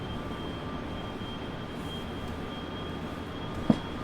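A metro train in the Hmmsim Metro game runs at speed as a steady, low rumbling drone with a faint constant whine above it. One short click cuts in near the end.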